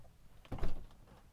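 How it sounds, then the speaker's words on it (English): A Tesla car door opening, a short muffled mechanical clunk with a brief whir in the middle of an otherwise quiet moment. "And now I'm going to open the door."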